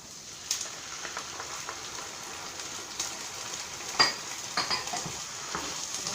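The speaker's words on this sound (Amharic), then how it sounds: "እንደዚህ ጠበስ አድርገዋለሁ።" Onion and tomato fry in a pan for vegetable couscous, giving a steady soft sizzle. A few utensil clinks and scrapes rise above it now and then.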